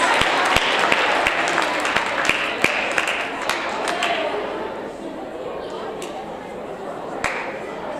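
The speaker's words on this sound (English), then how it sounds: "one more round of applause for Balco and Mrs. Barlove" A round of applause at a 7th grade awards ceremony for a staff member, steady clapping from a school audience with a few sharp louder claps standing out, gradually easing off in the later seconds.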